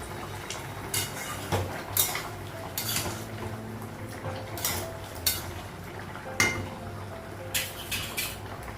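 Clinks and taps of metal pots and cutlery ring out in a home kitchen where rice is cooking, sharp irregular knocks over a low bubbling background.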